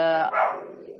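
A single drawn-out dog bark or yelp, harmonic and fairly close, trailing off into a fading whine.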